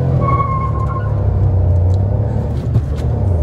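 A Maruti Celerio running on CNG spins its wheels, a loud steady engine rumble with rising revs and tyre noise on gravel throughout, heard close from inside the car.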